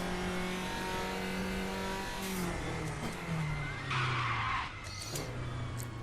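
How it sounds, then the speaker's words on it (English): Locked brakes make the tires skid and squeal in the RaceRoom racing game. A sustained screech holds over a droning race-car engine whose pitch slides down as the car slows, loud and continuous, with a brief louder scrub near the end. "Quite easy to lock the brakes up."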